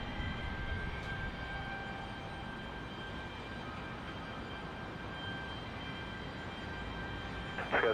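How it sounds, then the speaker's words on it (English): A SkyWest Embraer E175 jet departing from Salt Lake City, a steady broad roar of engine noise with a faint whine held over the whole stretch, moderately loud and unbroken. "E175 up next for departure."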